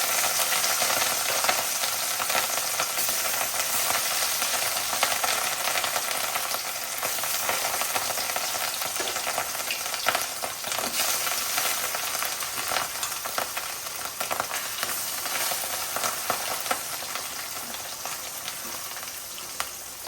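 Fish sizzles and spits in hot oil in a wok on a gas stove, a loud continuous frying crackle that carries on without talking.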